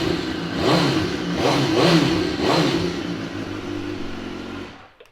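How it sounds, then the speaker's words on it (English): A 2014 BMW S1000R motorcycle, one owner with 7,294 miles, fires up and revs hard three times in quick succession before settling to a steady idle and cutting off, loud and close with no talk. "Let's give it a quick fire up."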